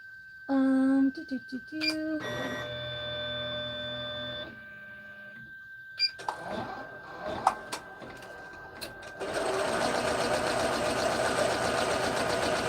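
A sewing machine stitches a placement line on a purse: electronic beeps and short mechanical starts first, then several seconds of steady whirring stitching, fairly quiet and without talk.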